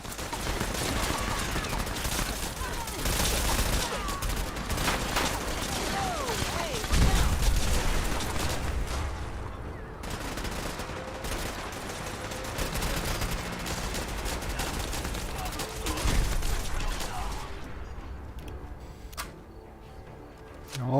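Gunfight against gunner enemies in the video game Fallout 4, with bursts of gunfire and scattered impacts running throughout, loud and sustained, easing toward the end, under occasional voices.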